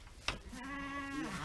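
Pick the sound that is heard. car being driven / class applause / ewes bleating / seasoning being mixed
ewes bleating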